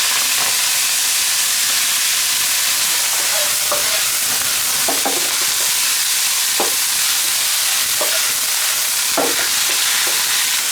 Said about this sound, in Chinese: 韭菜下锅快速翻炒哈。